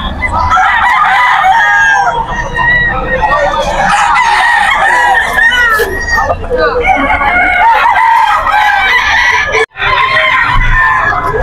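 A Gilmore gamefowl rooster crows loudly and repeatedly up close, with clucking from other fowl around it and a person talking among the birds.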